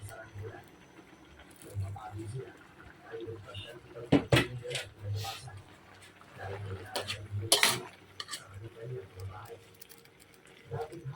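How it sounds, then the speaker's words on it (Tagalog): Saluyot leaves being stirred in a cooking pot, with soft scraping and a few sharp utensil clanks against the metal as someone talks over it. "Halo ko na itong mga dahon."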